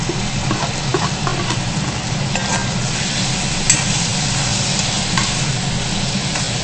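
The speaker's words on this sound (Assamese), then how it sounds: "বিলাহীটো দি ধুনীয়াকৈ এনেকৈ লৰাই ল'ব।" Chopped tomato is being stirred and fried in a pan of swamp eel curry, giving a steady close sizzle with scattered scraping and clinking strokes of a spoon against the pan. The sound is continuous and there is no talking.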